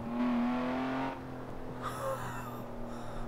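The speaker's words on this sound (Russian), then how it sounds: "Там отстрелы огня просто из глушака идут." A BMW M5 engine revving hard in Forza Horizon, with a loud sustained engine drone that drops off, then crackling exhaust pops and backfires over a lower steady rumble.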